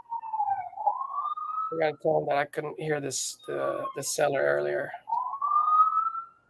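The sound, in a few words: police sirens passing outside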